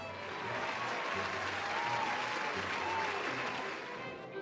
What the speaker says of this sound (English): There is a round of applause, cheers,